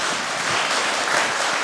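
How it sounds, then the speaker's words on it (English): Steady applause from a conference audience at a Python conference closing session, dense overlapping clapping throughout, fairly loud and close, with no voices. "Applause break."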